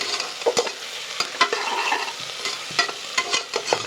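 Onions and curry leaves frying in hot oil in a cooker for biryani, a steady sizzle broken by repeated sharp spoon scrapes and clinks against the pot, close and fairly loud.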